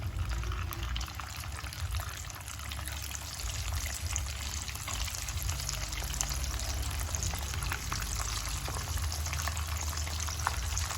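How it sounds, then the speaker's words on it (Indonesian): Dendeng beef frying in a pan, a dense, steady sizzle and crackle that runs without pause, close and fairly loud, with no voices. "goreng dendeng ini, daging ini sampai habis"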